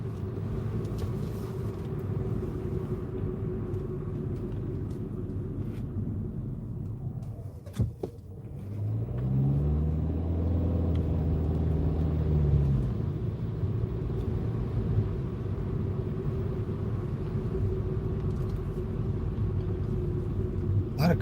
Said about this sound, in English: A lot of cars on Queen Street today.